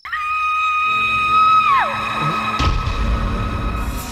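A woman gives a long, high, sustained scream at close range that bends downward and breaks off, followed by a sudden crash and a noisy scene in a horror comedy.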